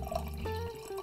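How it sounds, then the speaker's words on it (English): Hoosier Brewing fruited sour beer pouring from a can into a glass, a short liquid splash and trickle lasting about a second, close and fairly quiet with no talk. "I'm going to go ahead and pour this."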